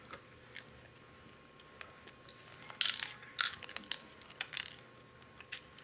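Close crunching and chewing of crispy lechon baboy roast pork skin, a few sharp bites in a quick cluster, then softer chewing in a quiet room.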